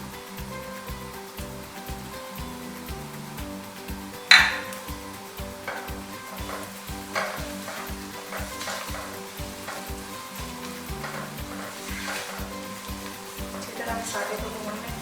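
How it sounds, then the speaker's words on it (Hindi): Spices sizzling and frying in a pan for aloo matar gajar, a constant crackling hiss with stirring and a sharp burst of spatter, occasional utensil clinks along the way. "मसाले को भून लें।"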